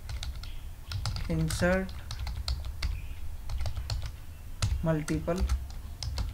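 A computer keyboard is typed on in short, clicky bursts while code is written in CodeIgniter, close by, with someone talking at times in between.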